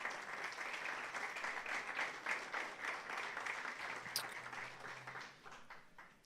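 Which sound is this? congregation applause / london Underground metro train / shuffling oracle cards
congregation applause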